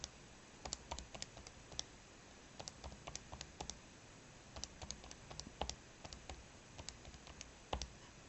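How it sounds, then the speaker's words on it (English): A graphing calculator's keys are pressed in quick irregular bursts of light plastic clicks while data is entered, heard close and fairly faint, with no talking. "We're going to type in our years."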